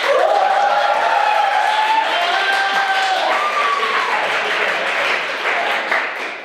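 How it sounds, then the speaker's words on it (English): An audience at a stand-up comedy show claps and cheers in a sustained wash that slowly fades toward the end, with a faint whistle-like tone gliding over the crowd noise. "Please clap."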